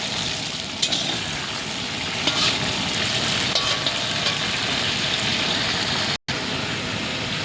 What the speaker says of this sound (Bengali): এই আলুর দমের জন্য আলুগুলো ভাজা হচ্ছে।